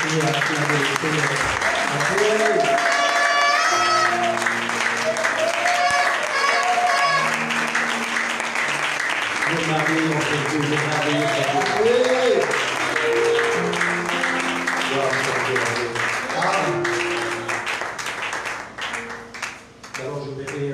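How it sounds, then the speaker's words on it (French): Church congregation applauds and acclaims the Lord, with continuous clapping under singing and musical tones, loud and steady, easing off toward the end. "On peut continuer à applaudir, on peut continuer à acclamer le Seigneur."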